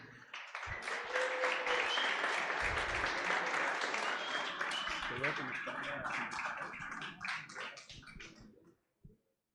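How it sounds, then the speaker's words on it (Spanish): An audience at a software and algorithms talk breaks into applause, a dense wash of clapping with scattered voices that holds steady, thins out near the end and then stops abruptly. "un aplauso para recibirlo"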